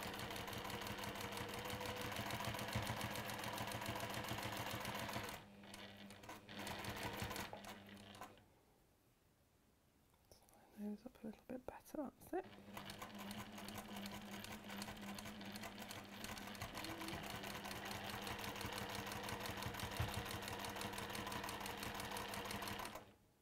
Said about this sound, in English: I'll just do a reverse stitch there and then I'll go straight across